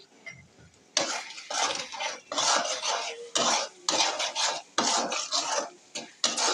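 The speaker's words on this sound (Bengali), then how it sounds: "এখন হচ্ছে মশলাটা আমি ভালো করে কষিয়ে নিচ্ছি" Spices for a chicken curry, with cardamom, cinnamon, bay leaf and cloves, are stirred and fried in a pan: a spoon scrapes the pan in repeated close, rhythmic strokes, about seven bursts over a soft sizzle.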